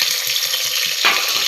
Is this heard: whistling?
no